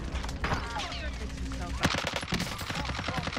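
Rapid automatic gunfire in the video game Warzone rattles in dense bursts, loud and close, with a brief voice underneath.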